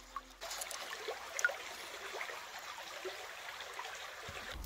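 Water from a brook trickles and babbles over stones in a steady, close, continuous flow with no voices.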